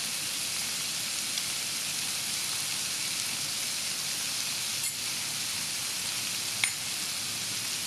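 Green peppercorns tossed into stir-fried pork belly in a wok, giving a steady, loud, even sizzle that continues throughout, with a couple of faint clicks along the way.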